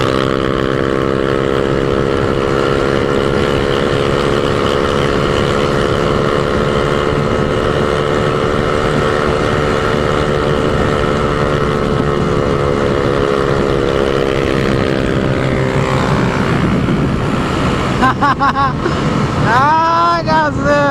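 A loud, droning motorcycle engine with an aftermarket exhaust holds a steady buzzing tone, then revs up and down with sputtering pops near the end, close and continuous.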